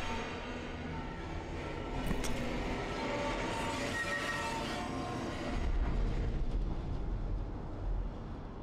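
Train rolling along in the horror video game Daymare: 1994 Sandcastle, a steady rumbling ride with faint rail clatter and a heavier low surge near the end.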